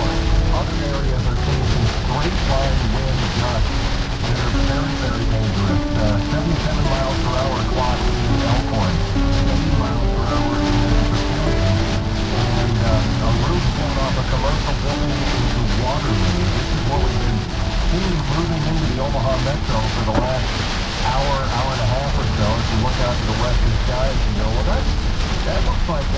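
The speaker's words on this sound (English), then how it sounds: "we've got a lot of rain associated with this as well" Heavy rain pounding on a car during a historic thunderstorm while driving in Omaha, Nebraska, a loud continuous roar with wind, and voices talking faintly underneath.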